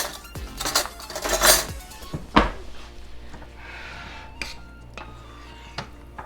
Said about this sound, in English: now you just gotta mix it all up. I'm gonna use a bigger spoon.